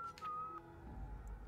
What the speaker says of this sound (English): her whistling is supposed to be a sign that she has good approval